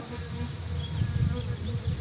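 Dense insect buzzing, steady and close, with low droning hums swelling and fading as bees fly about; no voices.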